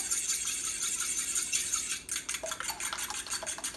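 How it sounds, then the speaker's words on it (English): Egg mixture whisked in a bowl for toast, with steady scraping and clinking of utensil against the bowl, close and moderately loud, a busier rhythmic patch of strokes toward the end. "So just make sure you mix it nice and good"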